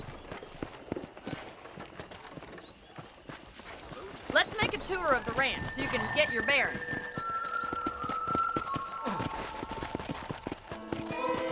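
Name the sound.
horse hooves while riding, Red Dead Redemption video game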